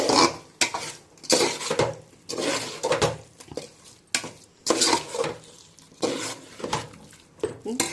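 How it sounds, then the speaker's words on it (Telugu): A spoon scrapes and stirs mushroom biryani inside a metal pot in repeated bursts, with clinks of utensil against the pot and a soft sizzle underneath. "ఇప్పుడు మిక్సీ వేసుకుందాము"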